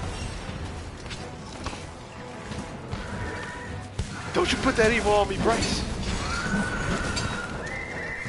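A horse in a video game whinnies loudly and energetically, its neighs rising over the clatter of hooves while someone talks excitedly over the action.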